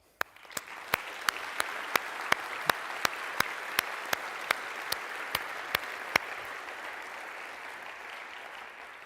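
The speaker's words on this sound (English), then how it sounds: "both of them deserve a huge applause." An audience at a Fab Lab conference in Brno claps steadily for about nine seconds, with a series of sharp, evenly spaced clicks ringing out over the applause for most of its length.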